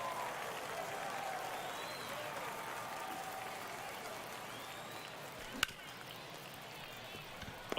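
A baseball stadium crowd in MLB The Show 23 keeps up a steady roar of cheering and murmur, fairly faint and continuous, with a sharp crack near the end.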